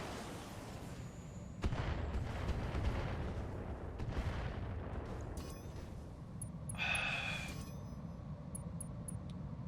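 Turrets fire in the sci-fi game BTA 3062: a dense, rumbling barrage of booming shots and blasts rolls on steadily for the whole stretch, with a brighter whining burst partway through.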